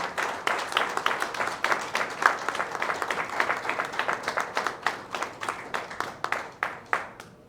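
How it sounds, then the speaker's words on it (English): A crowd claps at a book launch for a poetry collection. Individual claps stand out in a brisk, uneven patter of fairly close hands, slowly thinning toward the end. "Give a huge round of applause"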